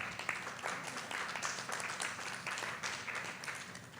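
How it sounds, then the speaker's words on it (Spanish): An audience at a colloquium on racial profiling in Mexico City applauds a speaker, with steady, fairly faint clapping filling the room and no talk over it. "Un aplauso para Norma Ojanda."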